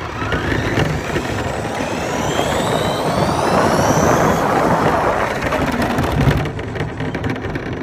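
Electric RC cars, a Traxxas Slash and an ECX Torment, race in a drag run, a loud, whining motor rush with rising pitch sweeps over gritty tire and surface noise, fading near the end.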